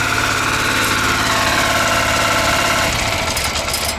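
A motoblock walk-behind tractor's small engine runs steadily nearby, a loud, even chugging drone with a rough vibrating edge that eases slightly toward the end.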